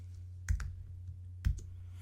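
Computer keyboard typing, just two or three isolated key presses close by over a low electrical hum, brief and separated.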